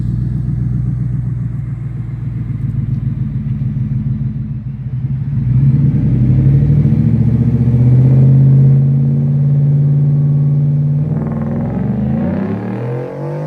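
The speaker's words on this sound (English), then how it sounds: "Do a little full drive launch?" A 2024 Ford F-150 pickup truck makes a full launch, its low engine rumble swelling as it accelerates hard, peaking midway and then easing off as it pulls away, with no talking.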